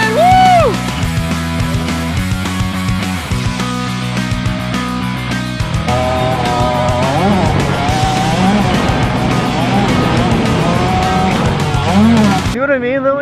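Kids' motocross dirt bike engines on a track whine and rev steadily for the whole stretch, loud and close, with pitch rising and falling as the riders shift and accelerate.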